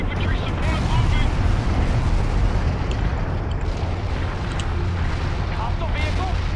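Heavy artillery shells explode in a continuous rumbling barrage in a World in Conflict battle, dense booms layered close and loud, with radio-style voices talking over the blasts.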